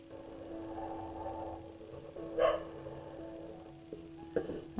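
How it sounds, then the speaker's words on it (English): A single dog bark rings out mid-way, somewhat distant, over a steady low hum, followed by a few softer knocks. "my dog wants to say hello, I guess, again. He's barking at something outside."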